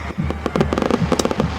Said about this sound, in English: fireworks, the smoke